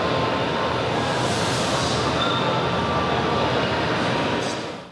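A 1938 London Underground train runs steadily, heard from inside the carriage as a loud, continuous rumble and rushing roar with faint wheel squeal, no voices, fading slightly at the end.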